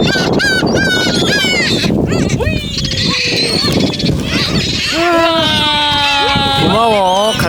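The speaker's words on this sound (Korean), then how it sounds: "갈매기 온다. 갈매기." A flock of seagulls gives loud, repeated wailing and honking calls over a tidal mudflat at Dongmak Beach, with long descending cries overlapping near the end while wind blows and people talk.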